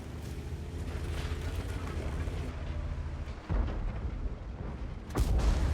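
M46 Patton tank in an online battle game: a heavy, muffled cannon boom lands under a constant low engine rumble, followed by a second deep shot near the end.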